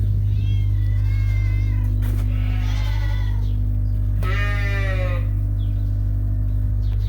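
Cats on a sheep farm meow to be fed, giving several clear, drawn-out meows over a constant low mechanical hum.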